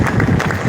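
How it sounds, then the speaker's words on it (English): A live audience gives a short burst of dense, steady applause with a few voices mixed in. "Give them all a big round of applause"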